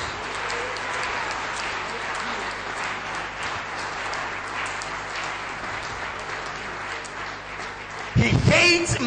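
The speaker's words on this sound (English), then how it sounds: "If you hate him like I do, can you give Jesus a round of applause?" Crowd applause at a religious gathering fills most of the span, a sustained broad clapping wash, then a louder, closer burst of noise near the end.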